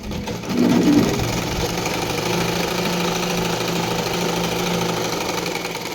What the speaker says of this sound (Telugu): జాయింట్ వేయండి అన్నీ కుట్టేయండి